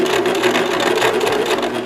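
A Singer mini home sewing machine stitches fabric, its rapid motor hum and needle chatter running continuously and close, steady in pace with no talk over it.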